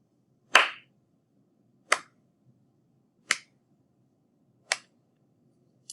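Hand claps in a slow, evenly spaced rhythm, five sharp close claps separated by quiet rests, each crisp and alone.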